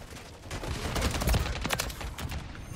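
Modern Warfare 3 firefight with bursts of rapid automatic gunfire and scattered shots, fairly faint and distant, running steadily across a few seconds.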